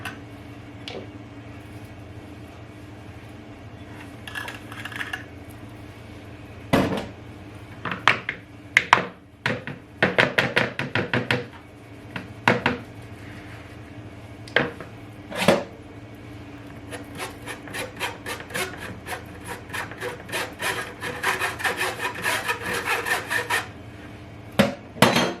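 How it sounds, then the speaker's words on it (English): Cocoa powder sieved into banana cake batter: a metal sieve is tapped and rubbed in repeated sharp clicks and scraping bursts, sparse at first, then a fast rapid patter toward the end, close and clear with no talking. "we are going to be adding the cocoa now, and then we are going to be sieving it as well while adding it to it"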